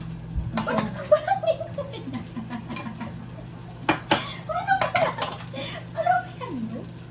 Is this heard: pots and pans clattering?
yes